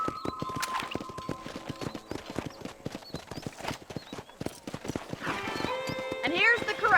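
Horse hooves clip-clop in a steady walking rhythm, with a whinny near the end and a voice talking over it.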